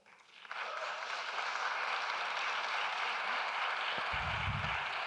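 Sustained applause from a congress audience honoring Izabela Barlinska at the ISA World Congress of Sociology, swelling after a quiet start into a dense, steady ovation, with a low thump near the end.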